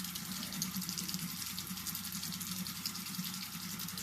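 Running tap water pours steadily while a rag is rinsed under it at a bathroom sink, a continuous close splashing gush that fills the whole stretch with no talking.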